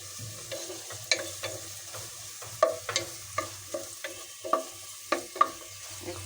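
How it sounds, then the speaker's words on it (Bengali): Onions frying in a pan for desi chicken morog polao, with steady sizzling broken by a series of sharp stirring scrapes roughly every half second, close and moderately loud. "এখন রান্না করব, এর জন্য পেঁয়াজটা ভেজে নিচ্ছি।"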